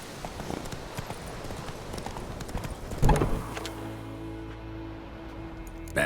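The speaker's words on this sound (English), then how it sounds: "Acá está mi caballo, perfecto." A horse's hooves clip-clop in a quick rhythmic gallop in The Witcher 3: Wild Hunt, then the hoofbeats give way to a steady low hum with a faint whinny.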